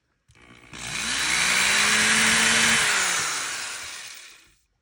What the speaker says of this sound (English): Pull out my drill with a very tiny drill bit. And I just make a pilot hole.